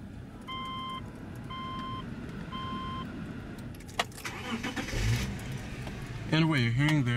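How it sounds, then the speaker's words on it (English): The 3.0-litre six-cylinder engine of a 2006 Subaru Outback L.L. Bean Edition starts and then revs, preceded by chime beeps and jangling keys inside the car. "what you're hearing there is a 3-liter six-cylinder engine"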